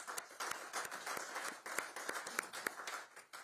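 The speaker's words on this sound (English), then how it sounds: "let's give yourselves a round of applause." A round of applause at a city council retreat from a smallish group, individual hand claps audible within the steady clapping, moderately close.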